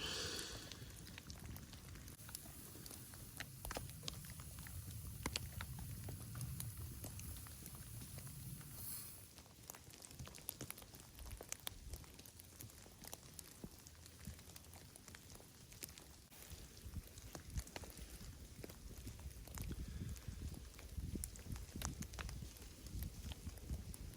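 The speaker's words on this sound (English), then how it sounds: "Snow dropping everywhere." Melting snow drops from trees in a winter mountain forest, scattered irregular patters and soft thuds near and far over a faint background hush, with a low rumble early on.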